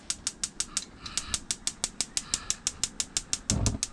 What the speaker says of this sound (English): We have our igniter button here